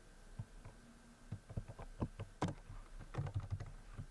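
Fingers tap out code on a computer keyboard for a histogram in R Studio, a steady run of close, light clicks and key thumps with brief pauses, ending in a denser flurry.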